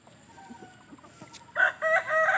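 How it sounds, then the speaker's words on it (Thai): Soft scattered clucks from young hens, then a sudden louder burst of crowing-like calls from a rooster close by near the end. "นี่ไก่สาวๆนี่ก็เป็นลูกไก่ชุดแรกๆนะครับ"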